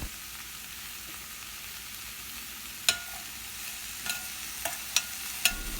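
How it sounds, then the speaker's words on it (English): Okra curry with tomato and garlic sizzles softly and steadily in a pan, while a few sharp clinks of a spoon on the pan's rim mark occasional stirring. "Give a gentle mix with all the ingredients."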